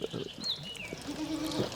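Goats on a goat farm bleat close by, with one drawn-out wavering bleat near the end and a few short calls before it, amid light shuffling and background noise.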